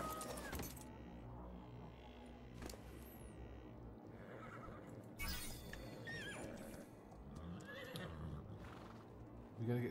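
A horse whinnies loudly at the start in the video game Remnant, followed by hoof clip-clops and more neighs scattered throughout, with faint voices in the background.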